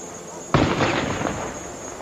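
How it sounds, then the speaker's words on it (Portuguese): A gun salute salvo fired with state honours at a funeral in São Paulo, one sharp sudden blast followed by a rolling, reverberant decay. "com a característica salva de tiros"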